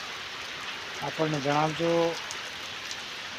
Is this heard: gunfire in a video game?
no